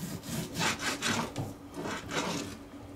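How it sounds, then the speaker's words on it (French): A knife slices through raw pork tenderloin on a board, a quiet series of soft rhythmic rubbing strokes, close and faint, with no talk over it. "Moi je découpe toujours mon filet mignon."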